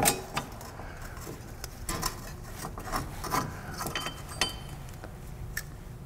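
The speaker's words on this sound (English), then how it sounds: "I can pull the shoes out from behind here." Parking brake shoes being pulled from behind a rear disc brake make light metallic clinks, jangles and scraping rubs, some louder knocks among quieter rattling, close by and without speech.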